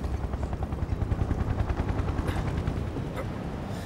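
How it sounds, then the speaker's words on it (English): Helicopter boss in Final Fantasy VII, a steady rapid rotor chop with rattling gunfire-like bursts, close and continuous throughout. "Don't tell me I have to fight the helicopter."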